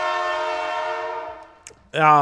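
A loud, sustained train horn sound effect blares for about a second and a half, fades out, then a short burst of noise and a second brassy horn blast follow.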